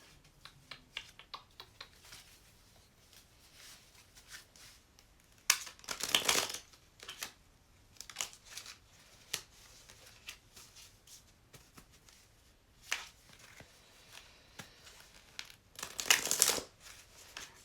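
Soft, quiet room with scattered light crisp rustles and two louder bursts of riffling tarot cards being shuffled close by.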